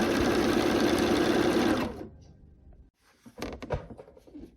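Sewing machine stitching fabric pieces together for a quilt block, a fast steady whirring run for about two seconds that stops abruptly, followed by quiet handling noises and soft clatter.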